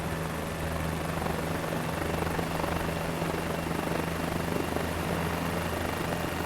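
Rotor thrum and turbine whine from a helicopter in Microsoft Flight Simulator, flying near Mar-a-Lago, hold as a loud, even, continuous roar throughout, with no voices.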